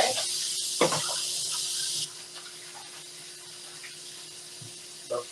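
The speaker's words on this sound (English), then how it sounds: "we're going to wash our hands guys" Tap water runs loudly into a sink while hands are washed, then the flow drops to a quieter trickle after a couple of seconds, with a few brief handling clunks nearby.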